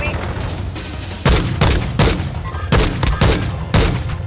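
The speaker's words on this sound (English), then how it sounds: "Mortar strike inbound now" A mortar strike in Call of Duty Warzone 2.0, a rapid series of about six loud heavy explosions over a constant rumble of gunfire and battle noise.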